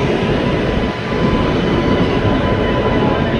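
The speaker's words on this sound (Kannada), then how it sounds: "ನಮ್ಮ ಟ್ರೈನ್ ಬಂತು, ನೋಡುವ." A passenger train on the Bangalore–Udupi route rumbles into a station with a steady, loud, low roar of wheels and carriages rolling, continuous and close, no voices.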